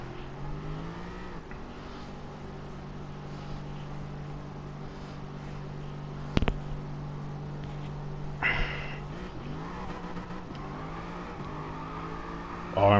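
A Mustang engine in the video game Gran Turismo Sport drifting on a drift setup, droning steadily as revs climb and drop through several gear shifts, with a couple of sharp bumps along the way.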